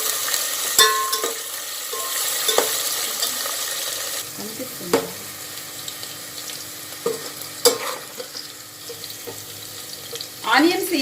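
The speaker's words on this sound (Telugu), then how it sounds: "ఆనియన్స్ ఫ్రై చేసుకుందామండి చక్కగా. ఇందులోనే పచ్చిమిర్చి చీలికలు కూడా వేసుకుందాం." Sliced onions and slit green chilies frying in a pan, a steady close sizzle with occasional stirring knocks and a brief trickle of running water, and a voice murmurs faintly.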